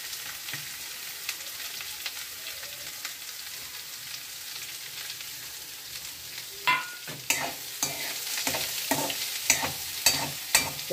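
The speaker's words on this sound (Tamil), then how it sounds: "இப்போ நீங்கள் வெங்காயத்தையும் பச்சை மிளகாய் சேர்த்து அதில் போட்டுடுங்க." Onions and green chillies fry in oil with curry leaves for wheat rava upma, sizzling steadily under a run of sharp scraping stirs that grow louder and more frequent toward the end.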